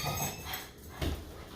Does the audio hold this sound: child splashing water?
no